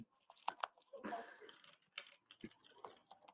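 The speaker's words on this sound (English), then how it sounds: "I'm making so loud noise in the library with my keyboard." Fast, close clatter of typing on a computer keyboard in a quiet library, with irregular bursts of key clicks and brief pauses between them.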